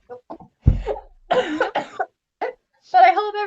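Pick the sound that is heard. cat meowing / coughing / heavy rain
coughing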